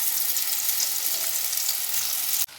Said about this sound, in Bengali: বেশি তেল দিয়ে ভাজতে হবে না, অল্প তেল দিয়ে ভাজলেই হবে।